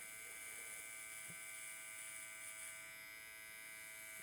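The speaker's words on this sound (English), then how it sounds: "I'm just going to take my tightest trimmer and I'm going to start low" An electric hair trimmer buzzes steadily and close while cutting a fade on a man's hair, a continuous high whine with no talk over it.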